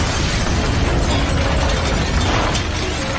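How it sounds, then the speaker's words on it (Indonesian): A house explodes in a film, a loud, dense rumbling blast that fills the whole stretch with roaring debris and crackle, no voices. "Setelah mobil mereka pergi, rumah jaksa wilayah itu pun meledak."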